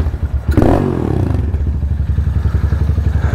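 A motorcycle engine is running loud and close. After a short scrape and clatter it settles into a steady, rapid thumping idle-to-riding rumble that continues throughout, with no voices.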